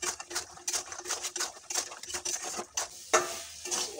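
Khaja sweets being stirred as they fry in a pan: continuous scraping and clinking of a utensil against the metal, close and steady, with rapid irregular taps over a soft background hiss.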